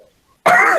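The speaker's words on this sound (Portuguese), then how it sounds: "Desculpa a minha tosse" A sudden throat clearing with a cough, loud and close, comes right after a short silent gap during an online spiritist talk.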